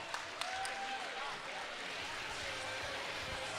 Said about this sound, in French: Le public applaudit.